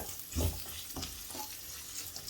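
Five or six small shallots sauté in a pan of bitter gourd, a quiet sizzle broken by a few stirring scrapes and knocks, close and fairly faint with no speech.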